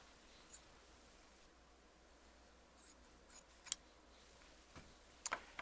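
Scissors snipping a fabric strip during sewing, a few short quiet cuts scattered over a near-silent background.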